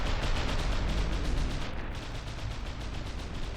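Rapid, steady cannon fire in the naval combat game From the Depths, a dense barrage of overlapping booms filling the whole stretch without pause, loud and continuous with no talk.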